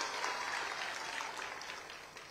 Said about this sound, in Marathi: त्याच्यासाठी जोरदार टाळ्या वाजवून द्या